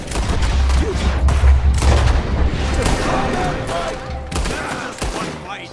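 Gunfire from the Western video game Red Dead Redemption 2 rings out in loud, irregular volleys of rifle and pistol shots with booming low thuds, sharp cracks scattered across the moment amid in-game shouting.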